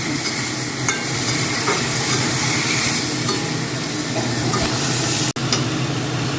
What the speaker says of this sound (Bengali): এবার এটাকে আমি কষিয়ে নিচ্ছি